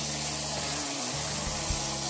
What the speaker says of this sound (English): So let me just get a little bit more water in here.